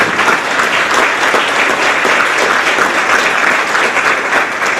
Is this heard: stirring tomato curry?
no